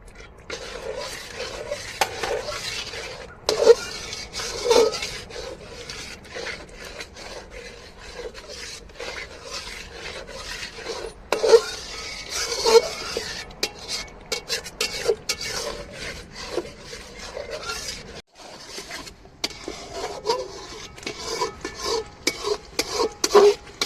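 Banana halwa with ghee being stirred continuously in a pan, a steady scraping and rasping of the spoon against the pan that runs on throughout, close and fairly loud, with no voices.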